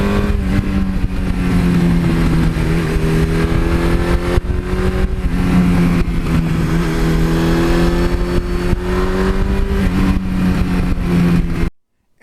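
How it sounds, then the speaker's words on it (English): A 1982 Suzuki GS1100E air-cooled motorcycle engine runs close and loud, its metallic exhaust note rising and falling through repeated revs, then cuts out abruptly near the end. "These bikes have a very different sound, a much nicer exhaust sound, a metallic sound."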